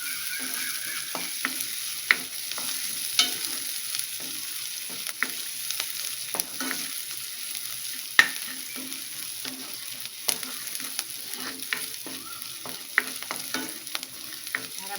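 Chopped vegetables sizzle steadily in a hot pan while a spoon stirs and scrapes them in frequent light clicks, a constant frying hiss close by with no voices.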